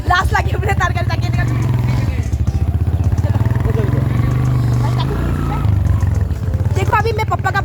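A Bajaj Boxer motorcycle engine runs at a steady, loud pulsing throb throughout the ride, with wind rumble and people talking over it.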